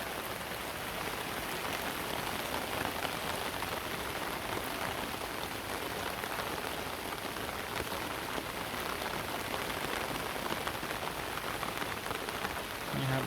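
Steady rain pours outside a house in Thailand, a dense, even hiss of drops on surfaces that continues unbroken for the whole stretch, with no voices.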